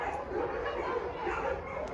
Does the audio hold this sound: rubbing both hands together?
no